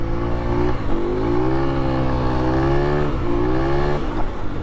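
Motorbike ridden through the bush in fifth gear, engine holding a steady loud drone with slight pitch dips at each gear change, close and continuous.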